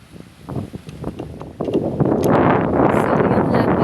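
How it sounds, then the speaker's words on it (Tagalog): Gusty wind buffets the microphone at a seaside mangrove, rising and steadying into a constant roar after a few scattered knocks. "Ang hangin."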